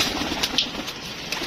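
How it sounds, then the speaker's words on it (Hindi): Pigeons in a net enclosure coo softly in a brief, close murmur, with faint rustling and no voices. "दोस्तों ये कबूतर शबूतर जी बच्चों को जाल में चढ़ा रहे हैं।"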